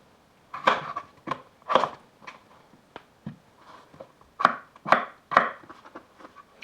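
Knife cutting potatoes into cubes on a board, a series of sharp, close chops coming in irregular clusters with quiet gaps between, some strikes louder than others.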